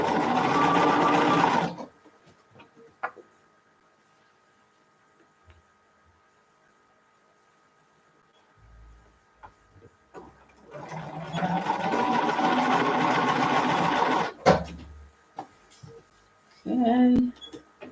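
A sewing machine stitches in three separate bursts, a short run at the start, a longer steady whir in the middle and a brief one at the end, with quiet gaps between them.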